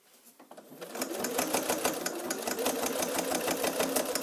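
A sewing machine with a Microtex 90 needle stitches a bag side seam close to the fold, a rapid, even mechanical chatter that ramps up and holds a steady rhythm close by.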